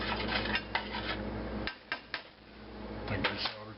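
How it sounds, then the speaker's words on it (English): Spoon clinks and scrapes against a pot while lemon zest is stirred into a fruit compote, a run of sharp metallic taps and knocks that stays close and fairly loud. "And stir that up."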